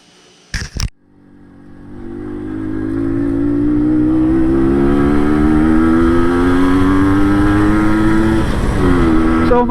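An MZ TS125 motorcycle fitted with a new Mikuni carburetor: a couple of sharp knocks, then the two-stroke engine fires and revs, its pitch climbing steadily into a loud, close buzzing drone.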